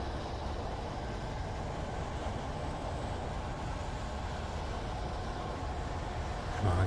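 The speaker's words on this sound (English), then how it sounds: "Ooh! Train. Thanks, train." A train passes in the video game Alan Wake, heard as a continuous loud low rumble and roar that holds steady for several seconds and swells slightly at the end.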